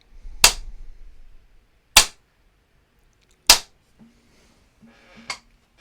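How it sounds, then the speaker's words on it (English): A chuk-pi wooden clapper snapped shut three times at slow, even intervals, each a loud, sharp crack with a quick decay, followed by faint low noises. "And the sound of the chuck pea."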